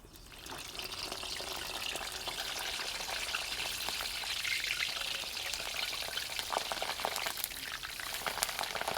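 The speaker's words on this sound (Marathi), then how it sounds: "तेल गरम झालंय आपण मिरच्या तळून घेऊ" Green chillies frying in hot oil while bhaji are being made, a steady, soft bubbling and crackling hiss that goes on without pause and without voices.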